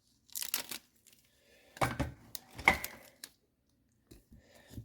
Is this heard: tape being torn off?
yes